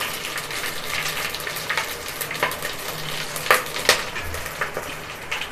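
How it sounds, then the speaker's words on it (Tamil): Cinnamon, fennel seeds and whole spices crackle and sizzle in hot oil, a steady bright hiss with scattered pops and a couple of sharper clinks near the end; no one talks. "இப்போ இதுக்கு தேவையான பட்டை மசாலா சோம்பு இந்த ஐட்டங்களை கொஞ்சம் இந்த எண்ணெயில் சேர்த்துக்கலாம்"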